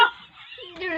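A dog gives a short whining bark followed by a higher yelping cry, close by and brief.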